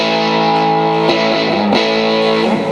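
A KSM Music guitar pedal's distortion effect colours sustained electric guitar chords into a loud, buzzy, saturated tone, with a couple of chord changes over a few seconds.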